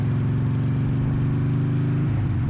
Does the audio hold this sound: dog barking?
no